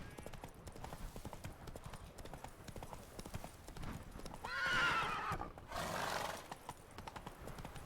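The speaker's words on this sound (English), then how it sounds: "Easy, Roach, it's just a bridge" Hooves of a horse in a video game clop steadily over a bridge, with a whinny rising partway through; the sound is close and fairly loud against a background ambience.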